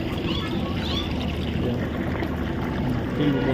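Fresh water pours and splashes steadily for a few seconds into a trough for cows and calves, a continuous close-up gush with a low rumble underneath.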